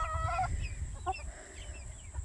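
A mixed flock of silkie and Sussex chickens, with a couple of bantams, clucks and murmurs in a farmyard coop, a steady low chatter with a few higher calls rising over the background.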